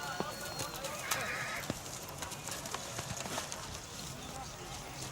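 Horses at a livestock fair in the Rajasthan desert give scattered hoof clops and brief calls over a steady, dense crowd murmur, with people chattering throughout.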